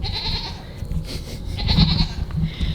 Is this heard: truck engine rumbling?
no